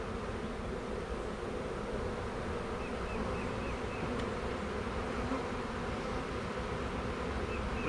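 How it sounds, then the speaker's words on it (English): Nurse honeybees buzz in a hive being loaded for a walkaway split, a dense, steady droning hum of many bees heard close and continuous throughout, with no talking. "And the nurse bees are going to come up in here."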